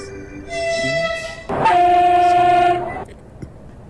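A Polish diesel train in a train simulator rolls along with a steady engine drone, sounding a horn tone twice, a short blast and then a longer, louder one, with no talk.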